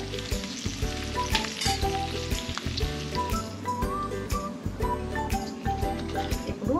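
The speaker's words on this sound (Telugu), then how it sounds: "ఇప్పుడు ఉల్లిపాయలు వేగిపోయాయి" Onions frying in oil in a pot for a Telangana-style fish curry, a steady close sizzle with clinks and scrapes of stirring throughout, no talking.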